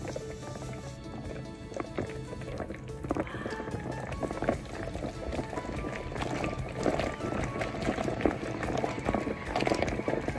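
Water heating in a Chinese self-heating hotpot, a dense fizzing and bubbling hiss that builds gradually and grows busier toward the end, heard close up without talk.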